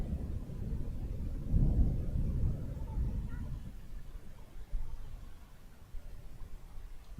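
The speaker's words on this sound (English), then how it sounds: "You hear the continuous roll of thunder." Continuous low rumble of rolling thunder during a T20 cricket match in Japan, swelling loudest early then settling into a steady distant roar, with faint wind noise and a commentator talking over it.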